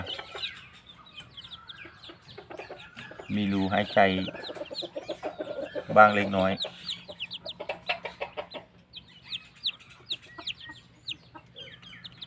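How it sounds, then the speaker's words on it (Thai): Chickens cluck repeatedly in a busy, scratchy chorus, with a few louder calls standing out and a person briefly speaking nearby. "เราก็จะมีไก่เพิ่มขึ้นแล้ว"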